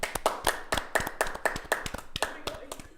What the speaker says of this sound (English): let's get a round of applause for Ruth.